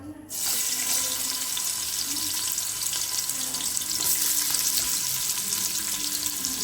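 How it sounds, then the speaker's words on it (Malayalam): Water drains steadily from soaked basmati rice, a continuous, fairly loud rushing and trickling that starts abruptly and keeps going without a break. "ബസുമതി കുതിർത്തിയ ശേഷം ഇങ്ങനെ വെള്ളം പോകാൻ വേണ്ടിയിട്ട് വെക്കുക"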